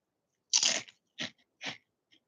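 A crunchy jalapeno-flavored snack is bitten and chewed close up: one loud crisp crunch followed by two shorter crunches and a faint final crackle, with no talking.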